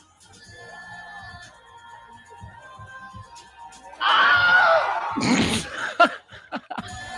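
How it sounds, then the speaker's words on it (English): A Wilhelm scream sound effect cuts in sharply and loudly, a brief high shriek standing out after a quieter stretch of background sound, followed by a few short bursts. "The Wilhelm scream. The Wilhelm scream. They put that in there."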